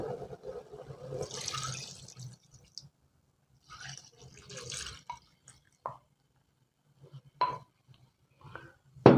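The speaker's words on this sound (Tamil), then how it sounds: "இப்போ நாங்கள் பால் தேங்காய் பால் விட்டுடலாம் இதுக்கு" Coconut milk poured into a simmering drumstick sothi curry of tomato and vegetables, a faint splashing pour at the start followed by scattered soft drips and clinks with quiet pauses between.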